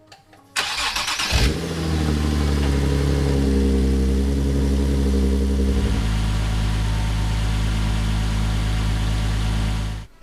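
Nissan 370Z engine cranks briefly with a whirring starter, catches and fires up loudly, then settles into a steady close idle after a fresh oil cooler install, running on for several seconds with no talk.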